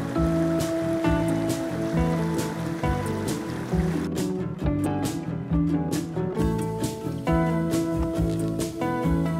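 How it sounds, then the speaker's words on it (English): Water rushes along the East Don River in a continuous broadband flow, fairly loud and near, with steady surges and no voices. "But that water sure sounds nice, doesn't it?"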